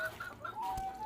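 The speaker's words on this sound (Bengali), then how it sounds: "আর এইগুলো হচ্ছে দেশি মুরগি" Native free-range chickens cluck in a short burst of soft clucks, heard at moderate distance with no talk.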